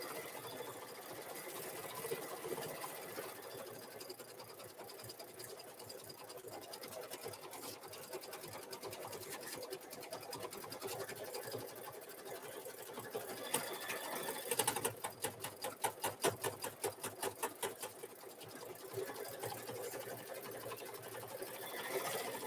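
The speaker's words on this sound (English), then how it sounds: "we got about 5 more minutes of stitching here" An embroidery machine stitches free-standing lace with a continuous rapid mechanical chatter, and a brief faster burst partway through. The sound carries on alone, with no talk.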